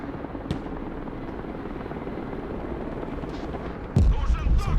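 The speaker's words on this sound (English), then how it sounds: "So I'm just using the Mi-8." An Mi-8 helicopter in the war video game Broken Arrow gives off a steady whirring drone, with sharp explosions and gunfire bursting over it near the end.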